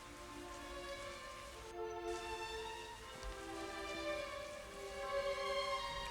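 Pouring December rain falls at Sacro Monte in Varese, Italy, a steady patter of drops hitting surfaces nearby that swells slightly toward the end.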